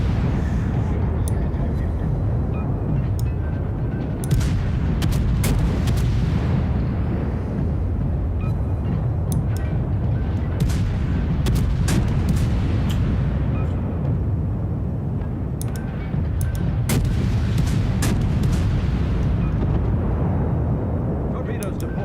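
Naval gunfire from World of Warships, Japanese ships trading shots at close range: dense low booming rumble with repeated sharp cannon cracks throughout, loud and continuous in a busy battle mix.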